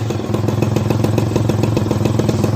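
A Peugeot 103 moped's small two-stroke engine idles steadily up close, a rapid even putter with a rattly, popping texture and no voices.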